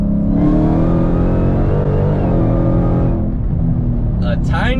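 A car on Mickey Thompson ET Street tires pulls hard in third gear from a 60 mph roll, engine roaring loudly and rising in pitch for several seconds before easing off, with a voice speaking over it.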